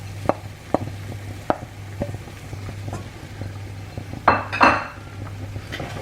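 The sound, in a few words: onions added back to a pan and mixed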